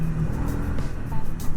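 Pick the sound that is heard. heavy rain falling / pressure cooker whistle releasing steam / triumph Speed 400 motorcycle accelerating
triumph Speed 400 motorcycle accelerating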